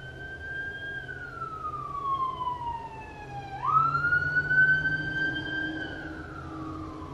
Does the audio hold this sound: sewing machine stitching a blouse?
no